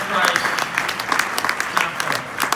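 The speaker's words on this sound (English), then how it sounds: "Could you give a round of applause to my senior senator, brother of Christ" A room at a prayer breakfast breaks into steady applause, many hands clapping together in a continuous, fairly loud wash with a few stronger claps standing out.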